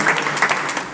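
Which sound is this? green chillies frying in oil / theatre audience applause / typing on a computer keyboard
theatre audience applause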